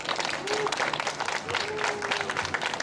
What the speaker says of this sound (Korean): 우리 김찬희 선생님한테 다시 한번 뜨거운 감사의 박수 보내주세요